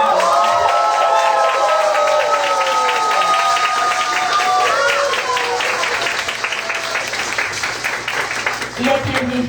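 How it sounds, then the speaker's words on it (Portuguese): Audience applause for an honoree at a literary panel on ancestral technologies, steady clapping across the room with cheering voices and chatter layered over it, fading slightly near the end. "Por favor, palmas para Conceição."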